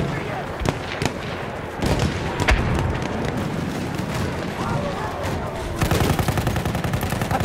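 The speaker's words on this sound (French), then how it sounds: "Attention, fusillade lancée." An artillery barrage in the video game Battlefield 1 brings repeated loud booms and gunfire cracks over dense battle noise, with voices in the background.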